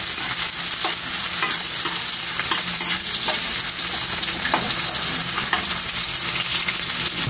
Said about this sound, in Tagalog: lagay na natin yung bawang natin, sama na natin yung sibuyas natin. Haluin lang natin